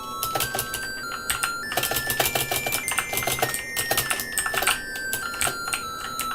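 Chiptune music from the ZX Spectrum game Agent X II, played on the AY sound chip: dense, buzzy square-wave tones with rapid arpeggios and clicky percussive ticks, continuous and fairly loud with no talk.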